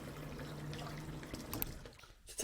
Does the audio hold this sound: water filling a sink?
yes